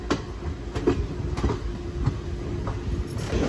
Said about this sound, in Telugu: ఆపోజిట్ ట్రాక్లో ఏదో ట్రైన్ అయితే వస్తుంది